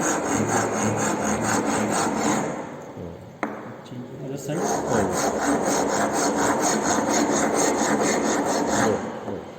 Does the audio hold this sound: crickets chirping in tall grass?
no